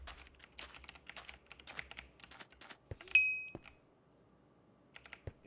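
Typing on a computer keyboard during a Minecraft session, quiet rapid clicking in bursts with a short bright chime in the middle, no talk.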